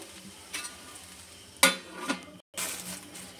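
Steamed leftover rice is stirred in a pot, scraping spoon strokes and a sharp metal clink against the pot over a soft sizzling hiss, close and brief.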